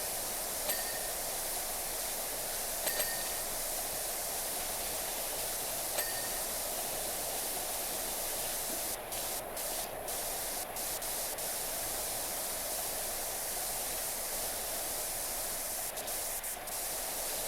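A white cleaning nozzle sprays water in a steady, loud, hissing rush that holds even throughout, with a few faint clicks at the start.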